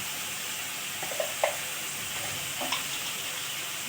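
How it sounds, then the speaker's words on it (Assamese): Cumin and coriander powder frying in a pan for a fish curry with white gourd, a faint steady sizzle with a few soft pops and crackles, without speech. "এইখিনি ভাজি লওঁ"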